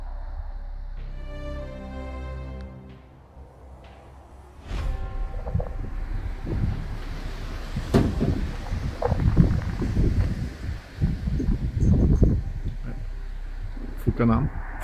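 Wind rumbles and buffets a microphone in gusts, low and steady, at a high, exposed viewpoint by the ruined Šport Hotel at Výšná Boca, Slovakia, with a person talking over it for most of the stretch.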